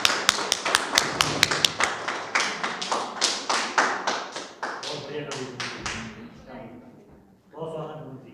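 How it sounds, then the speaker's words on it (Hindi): An audience at a Bundeli-language poetry recital welcomes a poet with a run of sharp, rhythmic claps, roughly three or four per second, gradually fading. A voice begins speaking as they die away. "जोरदार तालियों से उनका स्वागत करें"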